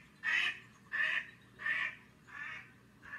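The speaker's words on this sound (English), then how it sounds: "That one is one of the ducks that we heard about." A duck quacks five times in a steady rhythm, each call loud, close and nasal, with short quiet gaps between them and no voices.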